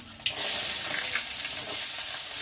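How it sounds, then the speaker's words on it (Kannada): Chopped onions frying in hot oil with mustard seeds, cumin and curry leaves give a loud, dense, steady sizzle with occasional crackles, close up and without talk. "ಉಳ್ಳಾಗಡ್ಡಿ ಮಾತ್ರ ಚಲೋ ತಂಗ ಮೆತ್ತಗಾಗ್ಬೇಕು, ಅಲ್ಲಿವರೆಗೂ ಹುರ್ಕೋಬೇಕು"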